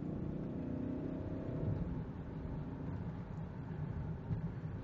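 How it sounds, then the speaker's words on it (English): A BMW 735 accelerating in sport mode, with a steady, low engine drone and road hum that rises slightly, heard from inside the car. "Now we're in sport mode. And what sport mode does is"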